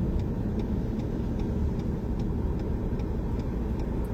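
Car rolling slowly in town traffic during a driving test, a steady low engine and road rumble heard from inside the cabin, with a faint regular ticking like an indicator over it.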